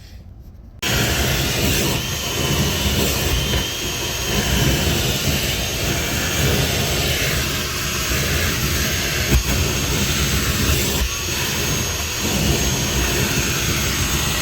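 A car vacuum runs steadily inside a Mustang's interior, a loud continuous whooshing roar that starts abruptly after a brief quiet moment and holds throughout, with occasional rubbing and bumping against the carpet and upholstery.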